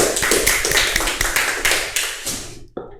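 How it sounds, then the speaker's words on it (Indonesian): A small classroom group claps during a microteaching session, a run of about a dozen distinct close claps in a loose rhythm that stops abruptly, followed by a couple of faint taps. "tepuk tangan dulu buat kita semua"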